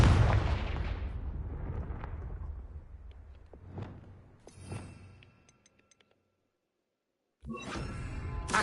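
Confringo fire spell blasts in Hogwarts Legacy, a loud booming burst followed by several fainter thumping impacts, a short silence, then another loud rumbling blast at the end.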